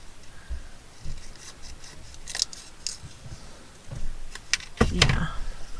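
Scissors snip out a paper sprig shape for a junk journal page, giving a few quiet, scattered cuts and rustles of paper at close range, with faint room noise between them.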